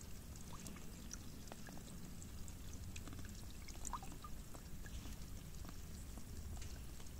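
Water pours steadily into a 10-litre container outdoors at a mountain pasture campsite, a continuous soft splashing gush with faint trickles and no voices.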